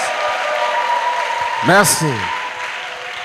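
A church congregation keeps clapping in a steady wash of applause while someone briefly speaks a word of thanks midway, then the clapping carries on.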